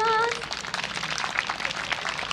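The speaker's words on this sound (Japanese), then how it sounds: "月立子ども獅子踊りの皆さんに大きな拍手をお願いします" Crowd applause for the children's shishi odori deer-dance troupe of Tsukidate Elementary School at the Kesennuma Slow Festa 2021 in Miyagi. A brief tonal call opens it, then steady, dense clapping continues throughout.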